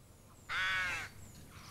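A rook gives a single harsh caw, short and fairly loud against a quiet outdoor background, with no talk over it.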